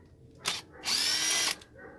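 A power drill drives an 8mm socket on the intake manifold bolts of a 5.7L/6.4L engine, a short burst followed by a longer high whirring run, close and loud with quiet gaps.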